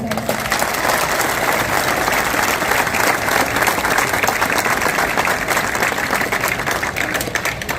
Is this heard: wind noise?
no